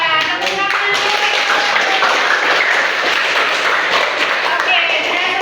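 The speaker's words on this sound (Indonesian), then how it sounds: "Tepuk tangan dulu." Classroom of students clapping together, a dense steady patter of many hands close by, with children's voices mixed in throughout.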